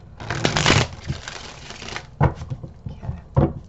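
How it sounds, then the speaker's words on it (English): Tarot cards riffle-shuffled in a quick fluttering burst, followed by a couple of sharper taps and flicks as the deck is squared up, close and fairly loud. "That was a horrible shuffle."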